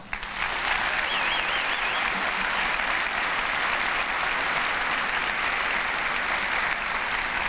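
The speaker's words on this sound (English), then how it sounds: "Please give yourselves a round of applause" Sustained applause from a large audience at a public school district convocation, a dense steady wash of clapping that holds loud and even for the full stretch without letting up.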